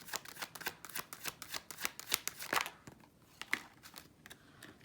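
Tarot cards riffle and slap in a quick run of crisp, close shuffling clicks, with a few cards spilling and flicking out near the end before the handling settles.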